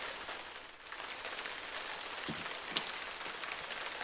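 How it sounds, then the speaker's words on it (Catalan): Heavy rain pours down steadily, a dense hiss of drops on surfaces with a few louder splashes close by. "es posa a ploure molt fort"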